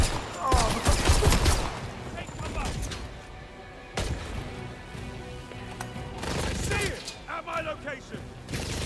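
Gunfire in the spy video game 007 First Light: rapid bursts of shots crackle at the start and return around the four- and seven-second marks, mixed with mechanical clanks and in-game voices, moderately loud amid a busy scene.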